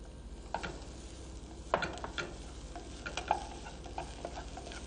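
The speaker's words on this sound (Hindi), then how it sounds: "जब गार्लिक हल्का सा भुन जाए तो उसके अंदर छोटा कटा हुआ प्याज डालें" Chopped onion frying with garlic in a hot pan, a quiet steady sizzle broken by a few sharp scraping and stirring clicks from a utensil, close by with no talking.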